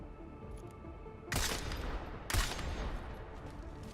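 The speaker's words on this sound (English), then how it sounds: "I had to shoot another time so the guards actually look for me" Two sharp, loud gunshots about a second apart blast at a door in Deus Ex: Mankind Divided, each followed by a short ringing tail over a low hum of game ambience.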